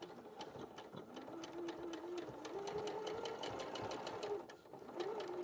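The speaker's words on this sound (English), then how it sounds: "I can just hear my sewing machine going, yeah. It sort of purrs along, doesn't it?" A sewing machine purrs steadily while stitching fabric, a close, even mechanical whir with a faint rhythmic ticking that rises and dips slightly in pitch as the speed changes, without talking.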